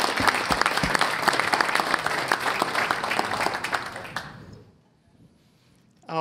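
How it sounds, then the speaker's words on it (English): Audience at an Internet Hall of Fame induction ceremony breaks into loud, steady applause that fades out after about four seconds, followed by a brief pause. "So please give a big round of applause to Philip Zimmermann."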